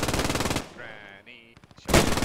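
Loud, close machine gun fire in the WWII shooter Post Scriptum: a rapid burst, a brief lull filled with faint tones and scattered clicks, then another heavy burst starts abruptly.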